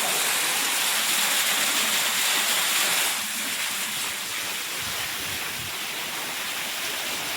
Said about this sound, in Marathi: या अशा पद्धतीने आपलं पंप पाणी मारित आहे शेतकरी मित्रांनो।